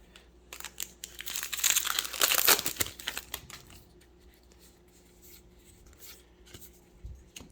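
Foil booster pack wrappers for Magic: The Gathering Dominaria Remastered crinkle and tear open, a loud dense burst of rustling over the first few seconds, then quieter sporadic crinkles and card handling.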